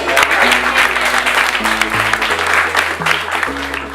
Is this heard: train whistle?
no